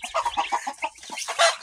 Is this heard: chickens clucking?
yes